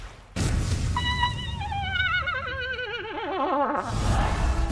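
A woman's long, warbling scream, slowed down, with wavering pitch that slides downward, resembling a drawn-out horse whinny, heard alone without talk.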